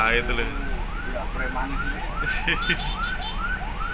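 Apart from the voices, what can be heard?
ambulance siren behind the bus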